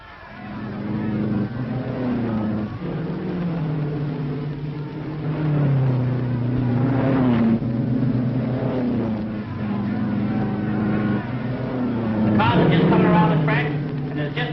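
Race cars roar off at the start of a tune-up race ahead of Indianapolis, a loud, continuous engine drone with rising and falling revs, heard under a commentator's voice on an old, muffled recording.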